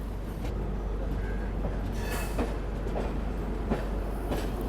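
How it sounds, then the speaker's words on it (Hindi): A locomotive being coupled to the Alappuzha–Dhanbad Express after a reversal: a steady, fairly loud rail rumble runs throughout, with a few scattered metallic clanks and clicks over it. "ये होना वो हमारी ट्रेन का ही लोकोमोटिव होगा।"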